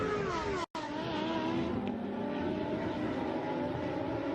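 Lamborghini Super Trofeo race cars pass on a circuit, a loud, continuous, high engine roar with shifting pitch as they go through, held steady apart from a brief dropout.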